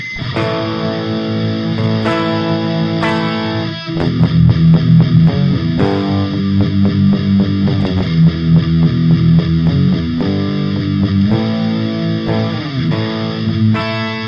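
Heavily distorted electric guitar played through a free VST virtual amplifier plugin, sustained chords and riffs, loud and continuous with a gritty, buzzing amp tone and no voices.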